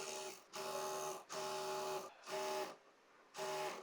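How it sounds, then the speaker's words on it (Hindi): A sewing machine stitching fabric for a double-layer gharara dress runs in four steady whirring bursts separated by brief pauses, close and fairly quiet with no talk. "अब यहाँ पर सिलाई लगाएंगे"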